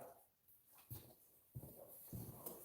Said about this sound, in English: Dog needs to go outside.